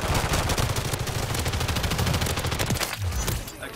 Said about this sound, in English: That gun is so hard to shoot.